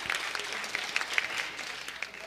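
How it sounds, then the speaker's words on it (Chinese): New Taipei City Council members applaud together at a council inaugural assembly, a brief burst of moderate clapping in a large chamber, fairly distant and even. "没有意见的话，我们拍手通过。"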